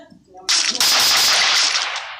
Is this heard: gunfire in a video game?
yes